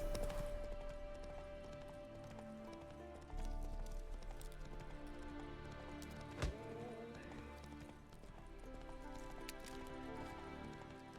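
Roach the horse trotting in The Witcher 3, a steady run of clip-clopping hooves close by, with a brief snort and faint ambient rain underneath, no voices.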